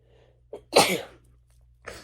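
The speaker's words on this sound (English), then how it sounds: "I had to sneeze" A single sharp sneeze with a brief intake of breath before it, close and fairly loud against a quiet background.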